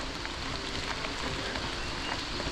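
Steady rain falls in a Costa Rican rainforest, a dense even hiss of drops on surfaces with no pauses.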